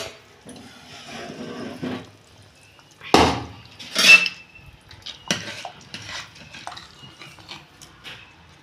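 The lid comes off a pressure cooker in a home kitchen during mutton curry prep, with sharp metallic clanks and clatters of pots and utensils in short separate bursts over quiet background.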